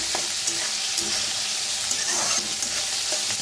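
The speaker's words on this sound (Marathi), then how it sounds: "आता चांगलं भाजलेलं आहे, त्याच्यात टाकूया ताजं मटर। मटरला भी भाजून घ्यायचं।" Fresh green peas frying in a pan with other roasted ingredients give off a steady bright sizzle, with occasional soft clicks and scrapes of stirring close by.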